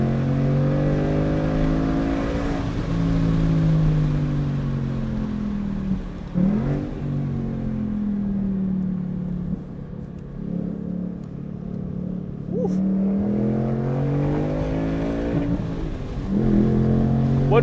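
A Ford Mustang Mach 1 with a Tremec manual gearbox, Handling Pack and Michelin Cup 2 tires laps a race track. Its engine drones steadily, then dips and climbs again through gear changes, heard close from inside the car.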